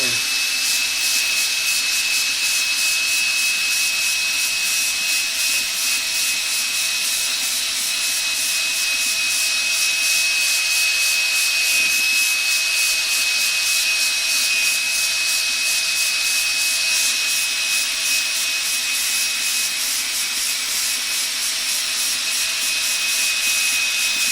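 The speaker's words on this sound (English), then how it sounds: "Set your drill on high." An electric drill runs continuously at high speed while buffing a guitar, giving a steady whining hum with a faint grinding rub, unbroken for the whole stretch.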